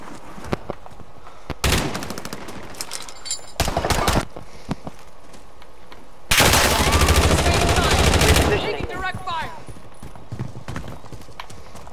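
Gunfire in Call of Duty Modern Warfare comes as loud bursts of rapid automatic shots, a short burst, another, then a longer sustained volley, with clopping hoofbeats and a horse between them.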